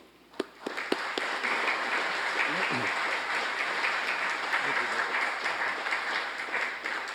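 Audience applause rises sharply after a few early claps and holds as a dense, steady wash of clapping for the rest of the span, welcoming a lecturer on Blancpain diving watches to an evening talk.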